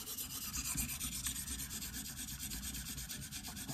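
A Cold Steel Air Lite knife blade is drawn over a KME sharpener's stone in quick, rhythmic abrasive strokes, a steady close-up rasping scrape.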